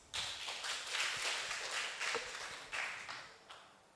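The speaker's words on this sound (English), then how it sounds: "Give applause." A lecture-hall audience claps to welcome a guest lecturer, a steady patter of many hands with a few louder swells, moderately close, lasting several seconds with no talking.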